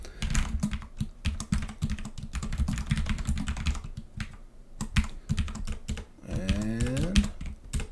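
Rapid, close clicking of computer keyboard keys as filler text is typed, steady bursts of keystrokes running throughout with a short voice near the end.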